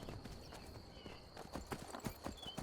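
A black horse being ridden in the video game The Elder Scrolls V: Skyrim gives rhythmic clip-clop hoofbeats, moderately close, steady through the short stretch and growing slightly louder at the end.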